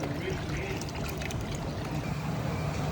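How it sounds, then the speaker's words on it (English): Brown sugar water poured from a bottle into a large jambalaya pot holding about 10 gallons of water, a steady low splashing stream running the whole time at moderate volume. "In there with a bottle of that brown sugar water."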